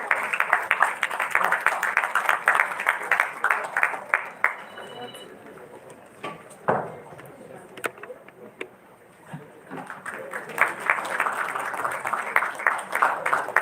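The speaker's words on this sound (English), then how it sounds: "A huge round of applause, please, audience." Bursts of audience clapping at a live dental event, strong at the start, fading to a quieter gap with scattered sounds and a voice, then picking back up toward the end.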